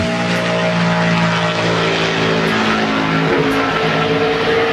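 NASCAR Sprint Cup stock car on a qualifying lap at Homestead: a loud, sustained engine roar with steady droning harmonics that shift slightly as the car passes, no speech.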